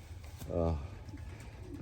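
Racing pigeon in a loft giving a single soft, low coo, close by, with faint background noise before and after.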